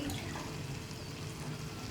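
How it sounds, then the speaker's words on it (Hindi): Gram flour and buttermilk mixture pours steadily into a pan of spices for kadhi pakora, a continuous watery splashing and trickle close by, with no talking. "अब इसमें डाल देंगे बेसन वाली लस्सी।"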